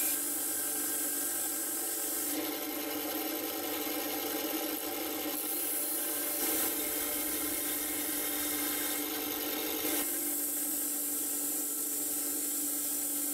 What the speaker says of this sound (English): First thing I like to do is just cut off the excess so that I have less to grind over there